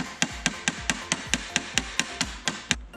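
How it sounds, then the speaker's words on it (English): About a dozen sharp metallic hammer taps on a Subaru transmission linkage piece in a steady, even rhythm, close by and ringing briefly after each strike. "give this back linkage piece a couple taps with a hammer and it should slide right off"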